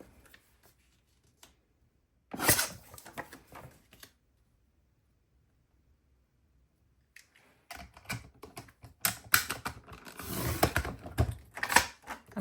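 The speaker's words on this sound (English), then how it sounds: "So we'll just use this trimmer here." A paper trimmer cuts photos for a scrapbook layout, with a short burst of scraping and clicking, a quiet pause, then a longer run of rapid slicing and clacking strokes close by, with no talking.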